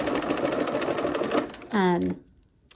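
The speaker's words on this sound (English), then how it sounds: "here we are at the machine, and I am going to go ahead and sew on that line" A sewing machine stitches a quilt block, its rapid whirring run continuous and close for over a second, then a sustained tonal hum as it slows and stops; a voice briefly overlaps near the end.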